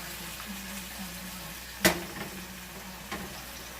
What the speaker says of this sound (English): So about a teaspoon of garlic, minced garlic, goes into the pan